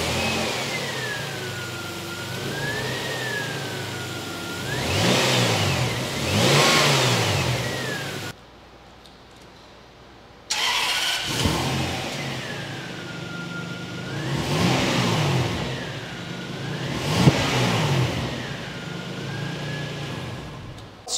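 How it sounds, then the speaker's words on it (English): A Toyota Century's engine is revved repeatedly in close, strong surges with a whining pitch that rises and falls, then a short silence before it starts up again and revs through several more pulls, no voices. "Let's put a clip of how this engine sounds and noting the sound of the starter."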